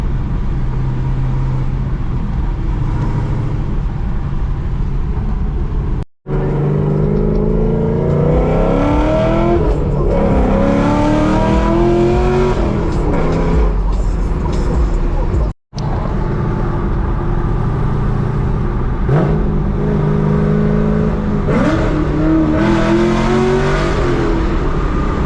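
A cammed Chevrolet Camaro is driven and revved, its loud, choppy idle rising into repeated rev sweeps and acceleration from inside or close to the car, with two brief cuts to silence along the way.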